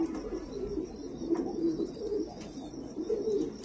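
Andhra pigeons coo in soft, repeated low phrases close by, several rounded calls rolling one after another over faint background noise.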